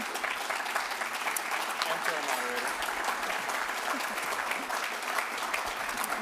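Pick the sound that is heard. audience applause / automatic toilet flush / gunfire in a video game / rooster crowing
audience applause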